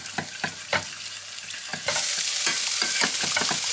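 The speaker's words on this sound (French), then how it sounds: "le beurre et la farine est devenu comme une pâte, on rajoute le lait." A spoon stirs milk into a butter and flour roux for a lasagne béchamel: quick scraping strokes at first, then a steady loud sizzling hiss fills the pan.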